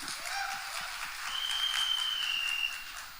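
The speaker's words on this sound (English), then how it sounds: "So guys, really a huge round of applause for Kanika Dhillon" Audience applauding producer Kanika Dhillon at a film trailer launch event: a steady wash of clapping from a crowd, fairly even throughout, with faint background tones and no speech over it.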